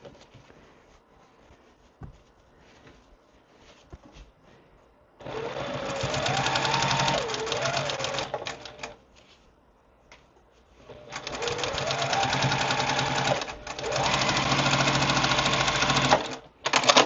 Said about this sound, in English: taking each of my next block and flipping it over and just sewing it on as we go